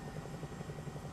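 Helicopter rotor thumping in the Microsoft Flight Simulator 2024 game, a steady faint chopping pulse with no voices.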